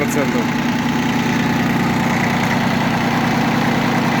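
A Japanese Yanmar FB15D compact tractor with 771 engine hours idles close by, a steady low diesel rumble with an even chugging pulse that holds unbroken throughout.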